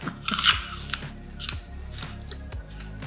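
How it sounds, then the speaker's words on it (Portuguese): Food being bitten and chewed up close, with several crisp, crunchy bites and squishy chewing sounds in an irregular rhythm over a low background. "A gente vai mordendo e mastigando"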